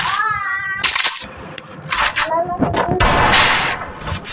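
Loud bursts of gunfire in a shooter video game crack out in rapid clusters, close and punchy, with a voice heard between the shots.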